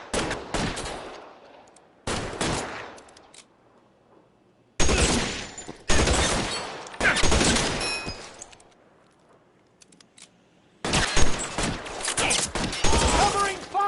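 Bursts of covering gunfire from a police shootout in the video game L.A. Noire, coming in several loud volleys with short pauses between them, mixed with rapid automatic fire.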